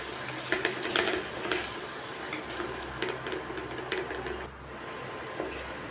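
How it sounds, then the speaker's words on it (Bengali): Ridge gourd peel paste is stirred in a pan, with a spoon scraping and clinking against the metal in irregular strokes over a soft, steady sizzle, close and moderately quiet with no talk. "ভালো করে নাড়াচাড়া করে নিব সবগুলোকে একসাথে মিশিয়ে নিব"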